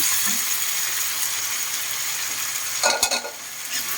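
Coconut heart of palm stirred in a pan: a steady close sizzle and hiss with a brief burst of scraping and utensil knocks near the end, and no voices.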